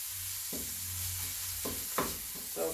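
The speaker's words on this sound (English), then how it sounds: "So cook your pork and your beef down real as good as you can." Ground pork and beef cooking down in a pan for dirty rice, a soft steady sizzle broken by a few scraping stirs of a utensil, close and moderately quiet, with no voices.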